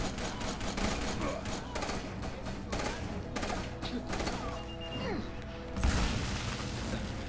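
Gunfire rattles through a firefight in the video game Army of Two: The Devil's Cartel, with loud, dense bursts and crashes that barely let up and a heavier impact near the end.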